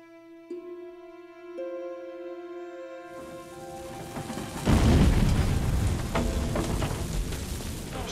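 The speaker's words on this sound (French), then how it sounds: "une deuxième explosion vient de se produire dans l'immeuble juste en face" A second explosion in an apartment building across the street arrives as a heavy rumbling blast over several seconds, following sustained tonal notes, then continuing as a loud, dense, crackling roar.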